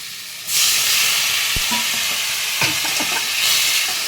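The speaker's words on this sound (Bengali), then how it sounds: "এবার একটু মশলাটা কষিয়ে নেবো" Ginger and green chilli spice paste sizzles steadily in a hot pan, breaking into a loud fry as it hits the oil, with scattered stirring scrapes and clinks over the continuous hiss.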